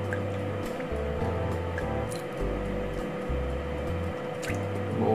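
Fish sauce is poured while making a dipping sauce for roast pork neck, a close liquid gurgle and drip running steadily under a low tonal hum.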